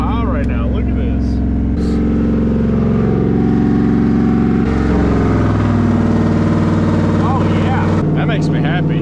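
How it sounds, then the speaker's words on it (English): A vehicle's engine idles high and steady throughout, a continuous low drone with shifting harmonic tones under frequent talking; a transmission overfilled with fluid and a bent pan, with wobbling between 40 and 50 mph. "It's idling so high right now."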